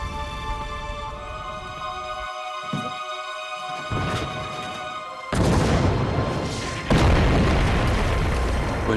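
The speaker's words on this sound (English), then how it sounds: "gas shells explode in front of him" World War I gas shells explode: low booms and rumbles build into a loud, dense roar of blasts, first one burst and then a heavier crash, with no voices.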